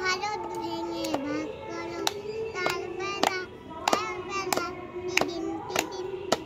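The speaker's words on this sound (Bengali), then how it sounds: "হাততালি দিয়ে সবাই।" Children clapping their hands in an uneven rhythm of about a dozen sharp claps, close by, over a child singing along.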